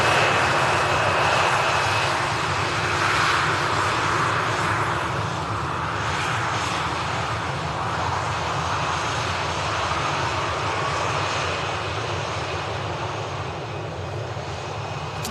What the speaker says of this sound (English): Can we see the TUI Dreamliner arrival?